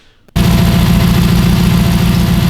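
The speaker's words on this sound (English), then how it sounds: "So we got the motor idling." A Hemi car engine settles into a steady idle right after starting, loud and close, with a low rumbling throb that holds evenly to the end and no talking.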